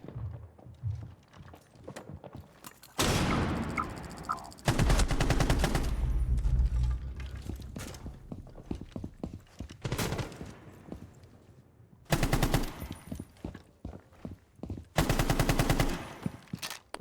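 Video game gunfire, with bursts of rapid automatic shots and single cracks arriving in loud clusters between quieter gaps, close and punchy.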